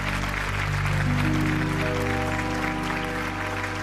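An audience applauds at a live music show, steady dense clapping throughout with a sustained organ-like musical chord rising underneath.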